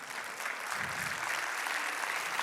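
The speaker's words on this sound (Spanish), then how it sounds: "Dale un aplauso a Cristo, a Cristo." A church congregation claps steadily during a Spanish-language sermon, the applause dense and even at moderate volume, with no voices rising above it.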